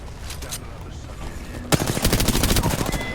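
Rapid automatic gunfire bursts erupt midway through a shooter match in Apex Legends, loud and close, following a quieter stretch of game ambience.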